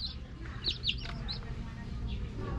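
Chicks peep in high, short chirps just after being given water, several quick cheeps close by over a low background hum.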